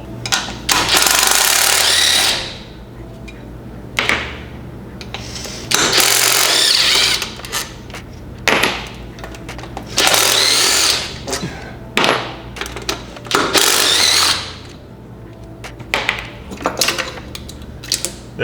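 Bursts of an air impact wrench or ratchet loosen four 14 mm bolts on a Honda D16Y7 intake manifold, several loud, buzzing runs of a few seconds each separated by short pauses, close up, with no talk.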